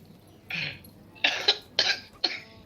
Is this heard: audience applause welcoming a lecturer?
no